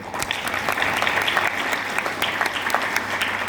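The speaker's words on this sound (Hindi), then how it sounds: "अपने लिए ताली बजा लीजिए" An indoor audience claps together in dense, sustained applause. It is close and fairly loud and holds steady for a few seconds, with no voices over it.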